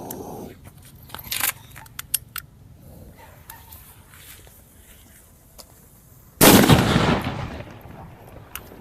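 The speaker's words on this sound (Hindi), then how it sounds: "चलिए नाजी पटाखा में फटाफट हम लोग आग लगाते हैं।" A Diwali firecracker is lit, with brief crackles and pops at first, then one loud, close burst that fades into a lingering crackling tail.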